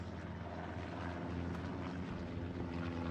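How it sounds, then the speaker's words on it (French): Aircraft engine drone from a plane passing in the World War II shooter Hell Let Loose, a steady broad roar that holds the whole moment at constant loudness, with no talking. "l'avion Breco qui passe"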